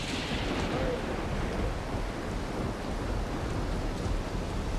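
Rumbling thunder with steady rain and wind during a storm in the game Project Silverfish, a continuous low roar filling the whole stretch without clear separate strikes.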